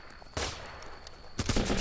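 Two bursts of gunfire in the video game Running with Rifles, each a quick loud volley near the listener, separated by a short quieter stretch.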